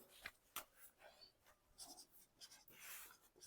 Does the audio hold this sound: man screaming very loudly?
no